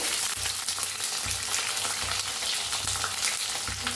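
Long-cut onion, mustard seeds and a dried red chili fry in a pan, making a dense, loud, continuous sizzle with faint stirring beneath.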